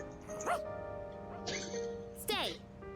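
A voice actor imitating dog barks and yips in Persona 3 Reload, a few short excited bow-wow calls spaced over a few seconds, close and clear against a quiet game music bed.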